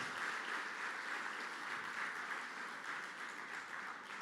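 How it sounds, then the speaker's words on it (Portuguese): Faint, steady applause from a church congregation clapping for a pastor, continuous and even throughout with no voices over it. "dá uma salva de palmas para a pastora Patrícia."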